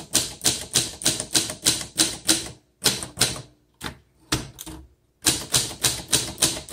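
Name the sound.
1960 Adler Primus portable typewriter typing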